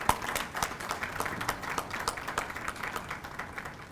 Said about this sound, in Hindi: एक बार जोरदार इनके लिए तालियां बजा दीजिए।